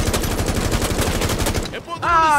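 Rapid sustained gunfire sprays in the video game Rainbow Six Siege, a loud dense burst of shots that cuts off abruptly, followed by a brief electronic tone.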